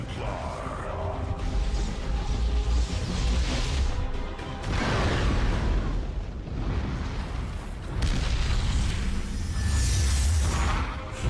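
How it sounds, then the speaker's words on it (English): Explosions in StarCraft II: Legacy of the Void arrive as loud, rumbling booms in several surges layered under game music, with no speech. "Warping from away from an explosion."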